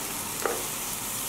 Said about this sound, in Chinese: 用一点油把虾头和虾壳煎出美妙的虾油